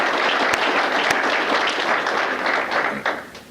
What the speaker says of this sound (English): So let's give everybody, the first responders, a round of applause.